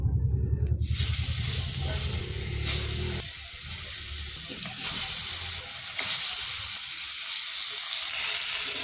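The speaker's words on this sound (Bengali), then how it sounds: "মাছটা ভেজে নেবো একটা করে।" Fish pieces fry one at a time in hot oil in a pan, after potatoes were fried. The sizzle is loud, steady and close, with a few clinks from stirring and no talking.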